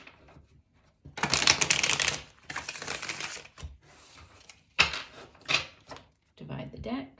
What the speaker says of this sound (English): Okay, we'll go ahead and do one last shuffle.